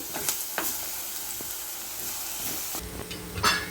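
Chopped onions hit hot oil with ginger and garlic in a pan for a Kerala-style fish curry, giving a steady, close sizzle with a few sharper crackles and a brief burst of louder frying near the end.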